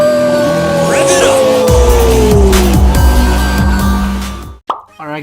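Car engine revving as a sound effect, a loud rising and falling roar with gear-shift drops and squealing, ending abruptly as a voice begins talking.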